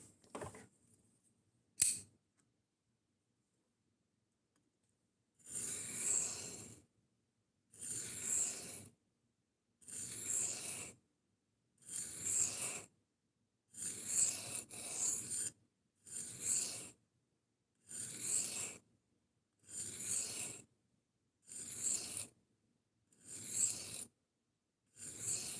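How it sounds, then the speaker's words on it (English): A knife blade is drawn across Sharpo diamond lapping stones in steady, evenly spaced rasping strokes, roughly one every two seconds, faint and close with silence between passes. "I'm using diamond lapping stones from Sharpo"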